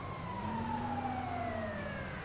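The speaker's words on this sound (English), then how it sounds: "You know, the ambulance is there." An ambulance siren in the GTA video game wails in long, slowly falling tones under a steady wash of background noise, moderately distant.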